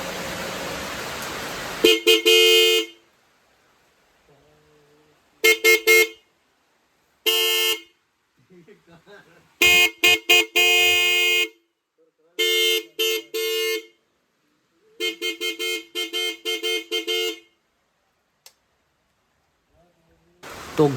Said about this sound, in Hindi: हॉर्न बजाता हूँ।